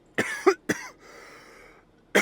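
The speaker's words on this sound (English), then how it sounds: "I was waiting to cough." Two sharp coughs close together, a third after a short pause, then a lingering hoarse rasp and another cough starting at the end.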